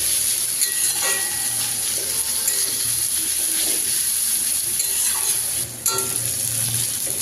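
Chopped onions frying in oil until reddish, a continuous soft sizzle with occasional stirring clicks and scrapes, close and unaccompanied by speech.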